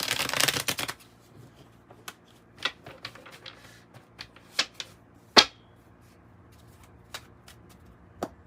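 A tarot oracle card deck is shuffled by hand, opening with a dense burst of riffling followed by scattered sharp card snaps and taps, close and fairly quiet against a silent background.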